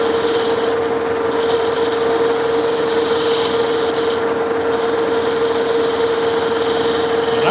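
A metal lathe turning the back shoulder of a chuck adapter, a steady loud scraping cut over a constant machine hum with no pauses, close up and alone.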